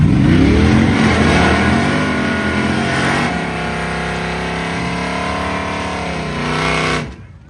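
A vintage drag race car, either a 1966 Cyclone or a 1957 Chevy Bel Air, roars off the line at a charity airport drag strip. The engine holds a loud, sustained rising howl, then cuts off sharply near the end.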